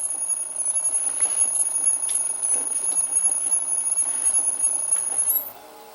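Metal lathe on a VFD drive boring a workpiece, giving a steady, strained mechanical whine with a high constant tone and busy midrange clatter, close and continuous, then dropping off abruptly near the end.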